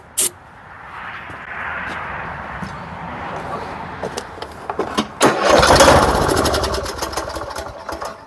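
A 2013 Cub Cadet LTX 1040 lawn tractor, left sitting for years and sprayed with starting fluid, cranks with a sharp click and rough churning, then catches and roars up loudly before settling.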